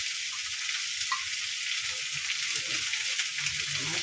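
Sambar curry with raw mango bubbling at a boil, a steady bright sizzling hiss running throughout, with faint low clinks and stirring near the end.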